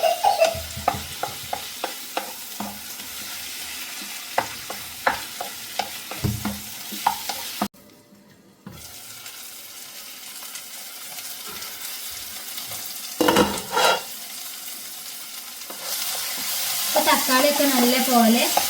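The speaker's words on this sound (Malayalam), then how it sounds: "തക്കാളി ഒന്ന് സോഫ്റ്റായി വരുവോളം നമ്മളൊന്ന് ഇളക്കി കൊടുക്കണം" Masala and tomatoes fry in a pan for a Kerala-style chicken liver curry while a spoon stirs with repeated scraping clinks. A soft sizzle runs underneath, broken by a brief pause and a burst of running water near the end.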